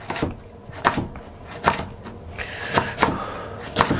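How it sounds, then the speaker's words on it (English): A knife cuts quorn into very thin slices on a board, with a handful of crisp, separate taps spaced irregularly about a second apart, close and fairly quiet, and no one speaking. "Now I'm gonna try to cut them into very, very thin slices"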